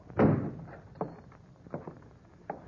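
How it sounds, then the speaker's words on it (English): A door is shoved open with a sharp thud, followed by a few softer knocks and bumps nearby. The room is otherwise quiet. "If you want in, just shove the door."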